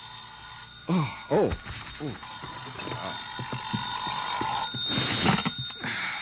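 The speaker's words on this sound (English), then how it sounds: "my phone rang the next morning" A telephone bell rings in short bursts as a sound effect in a 1956 radio drama, mixed with other effects and a voice briefly speaking.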